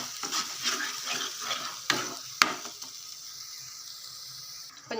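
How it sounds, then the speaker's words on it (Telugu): Spinach and onion masala curry (palakura ullikaram) being stirred in a pan, a soft continuous sizzle with scraping strokes and a couple of sharp utensil knocks near the start, steady and close with no talk. "బాగా కలుపుకోవాలి ఇది పచ్చి వాసన పోయే వరకు మగ్గించుకోవాలండి"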